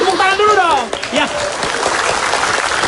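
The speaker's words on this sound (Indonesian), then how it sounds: "Tepuk tangan dulu dong." Studio audience on the Indonesian comedy talk show Indonesia Lawak Klub breaks into applause, a broad wash of clapping that rises as a voice finishes speaking and carries on to the end.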